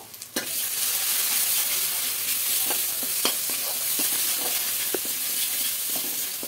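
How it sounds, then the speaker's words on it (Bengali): Spices including Kashmiri chilli powder fry in a pan for Bengali prawn curry with ridge gourd and potato, a steady close sizzle with scattered clicks and scrapes of stirring throughout. "এবার সব মশলাগুলো কষিয়ে নেব"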